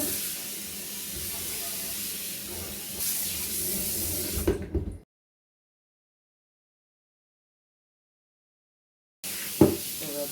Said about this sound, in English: we are going to wash vegetables there